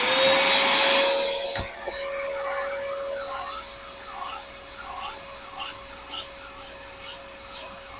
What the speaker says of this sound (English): I'll use a shop vac to take care of that.